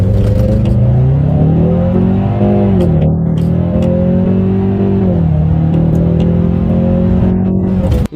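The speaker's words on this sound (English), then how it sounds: "let's do a straight line acceleration test." A 2.3-litre turbocharged Ford Mustang Shelby GTE wide-body launches in a straight-line acceleration run, its engine loud and close, climbing through the revs with shifts around three and five seconds before rising again.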